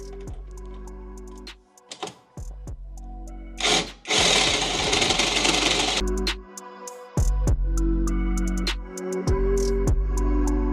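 Power drill boring a hole through car body metal on a Mitsubishi Lancer Evo X to fit a rubber well nut, a loud steady whine for about two seconds between quieter mechanical clicks and handling noises.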